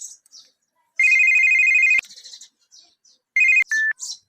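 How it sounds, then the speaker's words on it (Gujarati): A mobile phone ringtone plays nearby: a bright, electronic melodic tone sounds for about a second, pauses briefly, then returns in shorter bursts, clear and loud against near silence. "હમણાં એનો ફોન આવશે"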